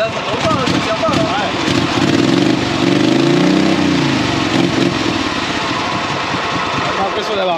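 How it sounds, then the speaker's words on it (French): Kawasaki twin-cylinder engine on a ride-on lawn tractor running at a steady idle, a close, throbbing low drone that stays constant throughout, with someone talking over it. "le moteur Kawasaki on dirait une Harley Davidson à l'arrêt"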